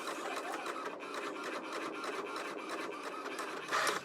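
An inkjet-style printer connected to a laptop printing an image, giving a steady mechanical rasping and rubbing whir with repeated carriage-pass ticks, close and continuous, growing a little louder at the very end.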